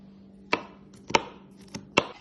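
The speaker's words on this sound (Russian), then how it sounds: "мелко-мелко нарезать чеснок." Garlic finely chopped with a knife on a board: four sharp, close chops at uneven intervals, with quiet gaps between and no voices.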